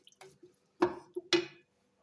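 Meat and bottle gourd curry stirred in a pot, two wet squelching scrapes with soft clinks against the metal, close and separated by near silence.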